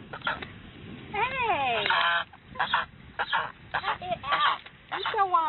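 A goose-like bird honks loudly and repeatedly nearby, giving a series of harsh, nasal calls in quick bursts with brief gaps between them, while a person talks at the same time.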